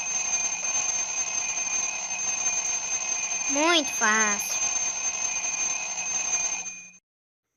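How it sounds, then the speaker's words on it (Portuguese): A steady electronic alarm clock tone rings continuously for about seven seconds and then stops abruptly; a person speaks briefly over it midway. "Quem fala despertador acertou"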